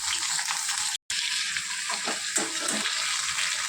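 Thin round slices of ash gourd frying in hot tempered oil, giving a loud continuous close sizzle with a brief cut and a few faint stirring knocks, no voices.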